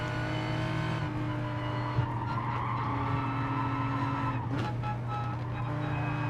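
A race car in Gran Turismo Sport coasts through a chicane, its steady engine drone holding as tires squeal and scrub briefly, with a continuous, close, loud mix throughout.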